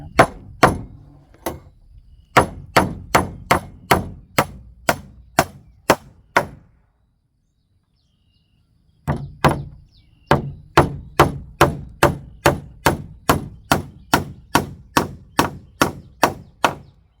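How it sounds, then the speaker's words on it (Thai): Steady hammer blows drive nails to fasten wooden boards near a steel band, loud sharp strikes in quick regular runs, a short pause partway, then another long even series, no talk. "ตอกนะครับตอกเพื่อยึดไม้ไว้ให้มันอยู่ในรูปที่เราต้องการ"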